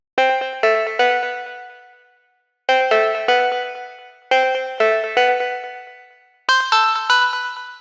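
Plug Upper, a pluck synth preset for house music, rings out in bright chordal stabs grouped in threes, each cluster decaying with a shimmering tail before the next phrase, four phrases in all, clear and alone.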